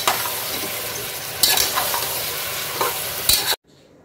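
Onion and potatoes fry in hot oil in a pan, with a continuous loud sizzle and a few sharper stirring scrapes before the sound cuts off abruptly.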